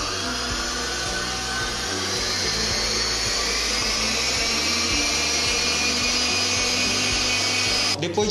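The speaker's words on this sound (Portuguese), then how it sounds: "acrescentar ali na batedeira e bater de 3 a 5 minutos" A stand mixer whirs steadily while beating a creamy four-milk cake filling for pot cakes, a continuous close motor drone with a faint rubbing texture and no talk.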